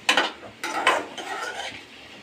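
A ladle stirs ivy gourd curry in a pan, making a few close scraping, sizzling strokes in short bursts.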